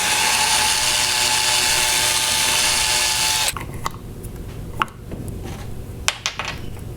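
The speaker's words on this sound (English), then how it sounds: "So now I'm just going to drill a hole here." A power drill whirs steadily and loudly for a few seconds, then stops, followed by quieter scattered clicks and light handling knocks.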